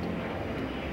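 An Antonov transport aircraft flying a display at the Paris Air Show gives off a steady engine roar, a dense continuous drone with no breaks over the short stretch.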